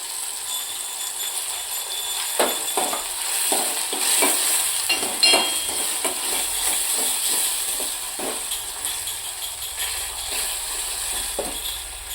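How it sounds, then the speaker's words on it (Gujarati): A spoonful of garlic-chilli chutney hits the hot tadka for urad dal, sizzling steadily with repeated close stirring scrapes and ticks over a soft background hiss. "આપણે એક ચમચી આપણે આ ચટણી નાખીશું"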